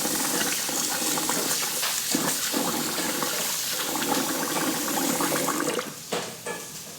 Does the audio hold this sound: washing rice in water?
yes